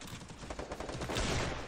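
Gunfire in a Free Fire-style squad shooter match, a dense burst of rapid shots rolling continuously for under two seconds, loud and close with no talk over it.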